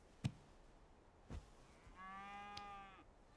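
A cow on a farm gives one drawn-out moo at moderate distance, following a couple of sharp knocks, in a quiet setting with no talking.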